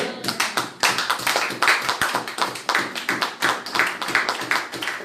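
A church congregation claps together in a steady, fast rhythm, the loud hand claps filling the whole clip with no voices over them.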